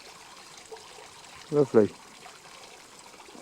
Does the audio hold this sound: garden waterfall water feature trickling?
yes